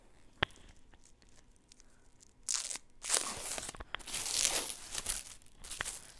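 Plastic wrapping pulled off a spool of gold silk PLA 3D printer filament, with close crinkling and crackling that starts with light handling clicks and swells into a loud tearing rustle, no voices.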